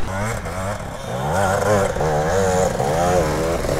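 Off-road motorcycle ridden by Graham Jarvis, its engine revving hard and climbing in pitch in repeated rising sweeps, loud and close throughout.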